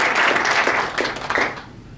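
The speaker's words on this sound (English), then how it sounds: "let's give him a huge round of applause for what he does" Brief, loud crowd applause at a charity dinner, honouring a musician, with dense clapping that swells for about a second and then thins out and fades within two seconds.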